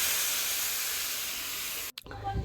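Water poured into a hot pan of small hilsa fish curry sets off a loud, steady steaming hiss that cuts off abruptly, then quieter bubbling follows.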